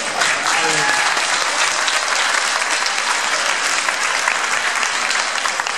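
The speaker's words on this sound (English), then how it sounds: "But a nice round of applause for Valastro for joining us here today" Sustained audience applause fills the hall on board the Norwegian Breakaway cruise ship after a live Q&A interview, a dense, steady wash of clapping that stays loud and even throughout, with no voices standing out.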